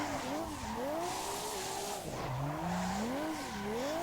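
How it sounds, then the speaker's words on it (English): Tires squealing as a car drifts in Assetto Corsa, with long wavering screeches rising and falling over steady engine drone, sustained and fairly close. "So when you go to do your drift"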